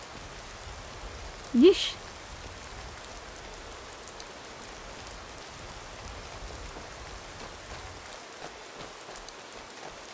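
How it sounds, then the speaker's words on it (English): Rain falling in the video game Skyrim, a soft, steady hiss of drops across the whole stretch, with a short exclamation from a voice near the start. "Rainy, bleak place."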